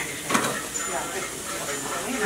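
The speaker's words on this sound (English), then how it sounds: "So you let this fry up and then you add your curry stuff." Curry ingredients and green seasoning fry in a pot for a Guyanese seven-curry meal, giving a continuous sizzling hiss with a brief clink of stirring near the start.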